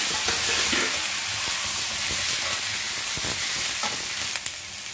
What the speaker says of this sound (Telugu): అలాగే ఈ తరిగి పెట్టి ఉంచుకున్న గుమ్మడికాయ ముక్కలు ఉన్నాయి కదా, ఇవి కూడా వేసేద్దాము.